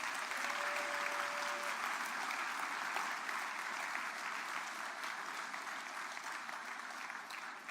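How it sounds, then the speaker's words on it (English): A large audience applauds the governor at a ceremony, with loud, sustained, evenly textured clapping throughout and no talk over it. "Let's give our governor another round of applause."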